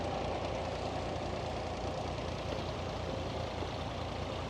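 David Brown 880 tractor pulling a two-furrow Ransomes plough at a ploughing match, its diesel engine a steady, unbroken drone throughout.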